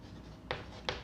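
Writing out the answer to a maths problem, heard as two short, scratchy strokes about half a second apart, close and distinct over a quiet background hum.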